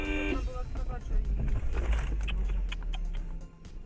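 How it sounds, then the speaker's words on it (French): A car horn gives a short toot at the start, followed by engine rumble and faint jangling while someone talks over it. "Klaxon."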